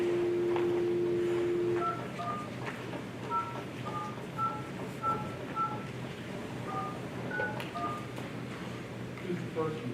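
Telephone keypad tones dialing out for a call during a Wilson County, Texas public meeting: a steady dial tone, then a quick series of short beeps, with room noise and faint voices underneath.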